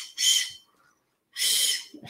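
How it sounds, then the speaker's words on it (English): Two shrill, piercing blasts from a small emergency survival whistle, each about half a second long, separated by a short pause and sounding close by. "This one has a whistle, emergency whistle."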